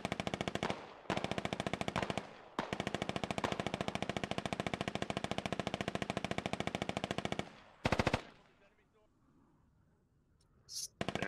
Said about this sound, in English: And they're just shooting over people's heads at this point